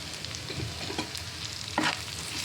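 Chili powder, turmeric and green chilies being stirred in a hot oiled pan, soft scraping strokes over a constant low sizzle, close and moderate, with a sharper scrape near the end.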